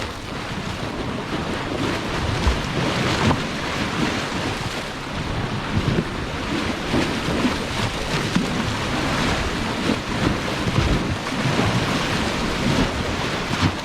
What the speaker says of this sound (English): people prefer the sound of the ocean over my rumbling